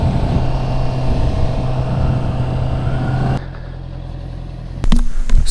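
Honda CBR650R 650 cc inline-four motorcycle running at steady high revs for about three seconds, loud and close, then dropping to a quieter idle-like drone before a brief louder burst at the end.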